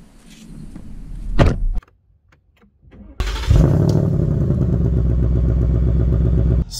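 A 460-horsepower Ford Mustang rental fires up and roars loud and close, a sharp rev and short pause giving way to a sustained, heavy engine drone as it accelerates.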